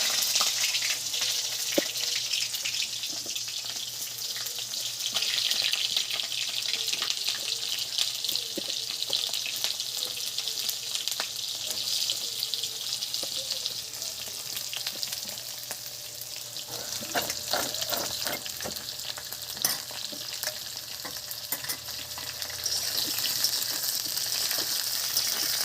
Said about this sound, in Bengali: জিরেটা হয়ে গেছে, এবার পটলগুলো ছেড়ে দিচ্ছি।